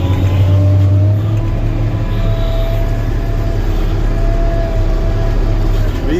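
A Caterpillar 648H skidder drags a heavy load of ash and sycamore timber in 4th gear, its diesel engine a loud, steady drone with a low rumbling tone throughout.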